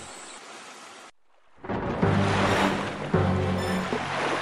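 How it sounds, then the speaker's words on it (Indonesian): Rough sea surf and gusting wind wash around a ship in a storm at sea, starting quietly, dropping briefly to near silence, then swelling into loud rolling waves. "seketika itu angin bertiup kencang dan menggoyangkan sebagian badan kapal"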